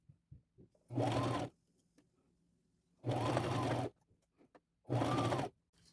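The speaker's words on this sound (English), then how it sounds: "go forward, back, and just sew all the way across" A sewing machine stitches ruffles onto a crossbody purse in three separate bursts, each lasting under a second, with quiet pauses between them.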